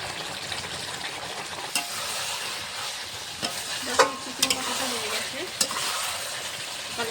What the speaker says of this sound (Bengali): ভেজে রাখা আলু দিয়ে নেড়ে চেড়ে নামিয়ে নেব চিকেন কষাটা